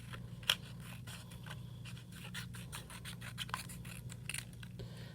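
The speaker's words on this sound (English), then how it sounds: "Opening my scissors and close." Scissors cut long, thin strips of paper: a series of light, crisp snips and scratchy paper sounds, close and quiet, spaced irregularly over a low steady background hum.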